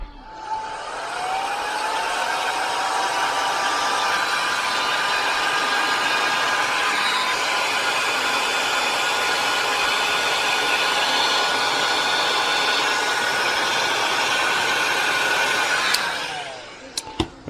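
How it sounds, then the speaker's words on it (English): A heat gun blows steadily for about sixteen seconds, shrinking heat-shrink tubing onto a repaired wire, with a whining fan tone over rushing air, then cuts off with a couple of small clicks at the end. "I got a heat gun here."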